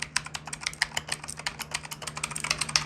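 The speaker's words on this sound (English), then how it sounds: "Let's see if we can hear any mechanical keyboard noise." Rapid clicky typing on a Redragon Kumara K552 mechanical keyboard, keys clattering in a steady uneven patter, close up, with a faint low hum underneath.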